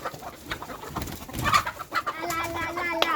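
Farm chickens cluck and call in short, uneven bursts, fairly close, with rustling and other background noise around them.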